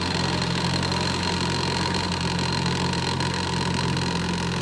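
Restored 1955 Evinrude 7.5 hp outboard pushing a John boat on a Louisiana bayou, giving a continuous even engine hum with a faint vibrating buzz, close by and steady, with nobody speaking.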